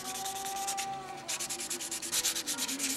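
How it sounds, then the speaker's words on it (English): Steady back-and-forth wet sanding with fine 600 grit paper, a close, rhythmic rasping scrub that pauses briefly before continuing. "And all this is going to take is a little 600 wet sanding."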